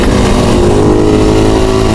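A Kawasaki ZH2 big bike revs nearby, its loud engine note rising and holding in a steady, throaty drone that fills the whole stretch.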